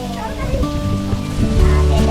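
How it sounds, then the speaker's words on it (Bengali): Artificial rain pouring from fountains at Sea Pearl Water Park in Cox's Bazar, a loud, dense wash of falling water with voices and tonal sounds mixed in. "এরা ঝর্ণার মাধ্যমে মানে বৃষ্টি দিচ্ছে কৃত্রিম বৃষ্টি"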